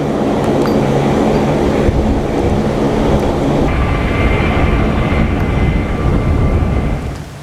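An HH-60 Pave Hawk helicopter flies low over Iran on a search and rescue mission, a loud, steady, close roar of engine and rotor filling the whole stretch without any voices.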